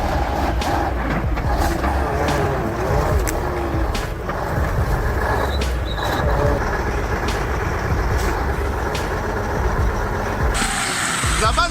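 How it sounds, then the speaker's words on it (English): Heavy off-road truck engine roaring steadily and loud throughout, with rattling, clunks and mechanical strain over a dense low rumble, no talk heard. "The engine roared, the tires screeched in despair."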